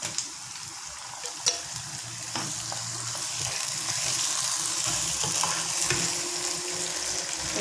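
Tomatoes frying in a pan for a pomfret fish curry, with a steady sizzle and scraping stir strokes throughout, a sharp clink near the start.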